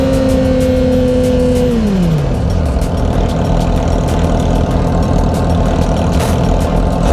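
A sport motorcycle engine runs loudly on a ride with other sport bikes. Its revving tone drops sharply within about two seconds, then it settles into a dense, steady, close rumble with no voices.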